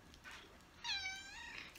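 A pet cat named Storm lets out a clear, close meow, rising and then falling, after a softer earlier chirp, in a quiet room with no talking.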